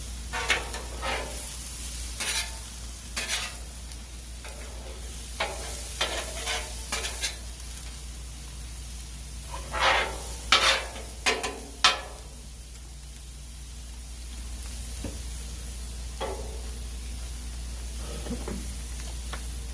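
Mixed vegetables fry on a new Blackstone flat-top griddle, making a continuous close sizzle with a low hum beneath and intermittent scraping and stirring clatter from a spatula, no one talking.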